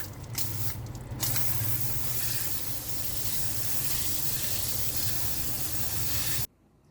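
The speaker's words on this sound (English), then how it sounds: "And then I will rinse off the soap and cleaner." Water spray rinses soap and cleaner off a Hayabusa motorcycle chain, a loud, continuous close hiss of spraying water lasting several seconds before cutting off abruptly.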